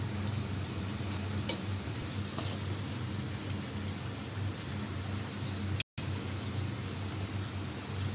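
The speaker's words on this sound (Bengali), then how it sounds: "এবার আস্তে আস্তে ফুলকপিগুলো দিয়ে দেবো।" Cauliflower fries in a pan with tomato, giving a steady close sizzle with a few light stirring clicks and a brief dropout partway through.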